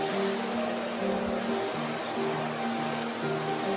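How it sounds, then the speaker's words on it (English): A Eureka Flash lightweight stick vacuum cleaner runs continuously nearby with a steady motor whine and airy hiss. The pitch wavers slightly as it is pushed across the floor, with no talking. "Let's do a little bit more vacuuming just so you can hear it and see how it works."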